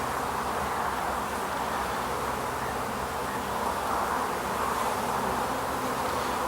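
Honey bees buzz in a dense, continuous drone from an opened hive during a colony split, close and steady with no pauses.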